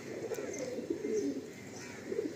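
Pigeons coo softly in a loft, a low steady burbling with a few faint chirps over a constant background hum.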